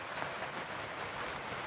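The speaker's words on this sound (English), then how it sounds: "You can hear the rain." Steady rain falls outside, a continuous even hiss with no pauses or breaks, heard alone without any voices for a short stretch.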